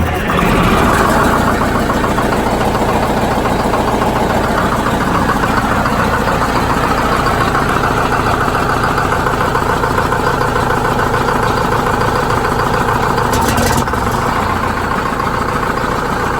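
A loud GM bus diesel engine runs steadily at close range, a deep continuous rumble with a brief rise in the upper noise near the end as the Jake brake works.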